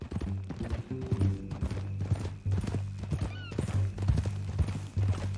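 A horse in Red Dead Redemption 2 walks with steady clip-clop hoofbeats and whinnies, close and clear over a low droning game soundtrack, with no one talking.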